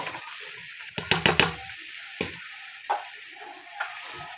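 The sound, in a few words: onions frying in oil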